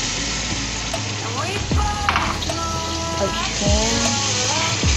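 Egg keema masala frying in a pan while being stirred, a close steady sizzle with scraping utensil strokes and a few sliding tonal squeaks, no speech.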